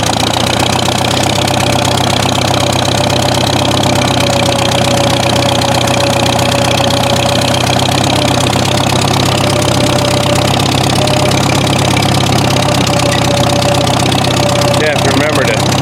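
A Farmall tractor engine, started without choke, runs in a steady, loud, rumbling idle close by throughout, with a faint rhythmic knock in its churn.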